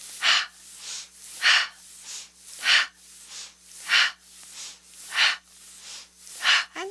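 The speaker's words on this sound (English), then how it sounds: "This rapid breathing removes any sense of funkiness" Rapid rhythmic yoga breathing, about ten forceful, airy breaths in an even pulse, close and clear with no talk.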